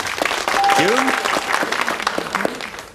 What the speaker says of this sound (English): June, Stefan very sportingly applauding you there